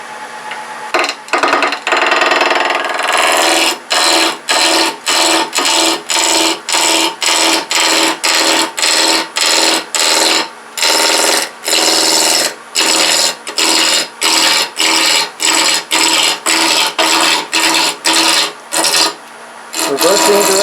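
Wood lathe spinning a wooden box blank at about 1100 to 1200 RPM while a tool makes repeated short cuts, giving a steady loud rasping scrape broken by brief regular pauses.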